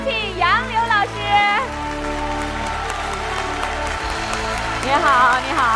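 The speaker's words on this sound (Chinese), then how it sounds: "掌声有请杨柳老师" A studio audience applauds to welcome the guest Yang Liu on a television show, a sustained patter of clapping mixed with music and voices.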